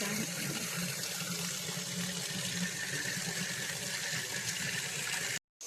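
Water pouring steadily into a container outdoors in a hill-farm setting, a loud continuous rushing splash that stops abruptly near the end.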